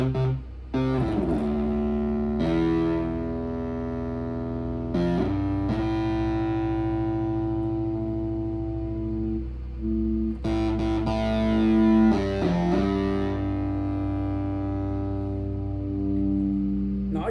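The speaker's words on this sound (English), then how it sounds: "that has to be by far the most aggressive distortion I've ever heard in a keyboard like this" A Sequential Take-5 synthesizer plays sustained chords through a heavy, aggressive distortion effect, loud buzzing tones held for several seconds, changing at a few points, with no talking.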